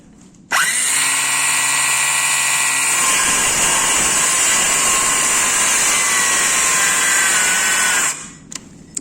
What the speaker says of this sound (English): let's get more cutting